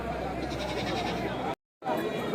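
Goats bleat at the weekly Tuesday sheep and goat market in Kadiri, with short calls rising over a dense crowd of talking voices and a brief silence near the end.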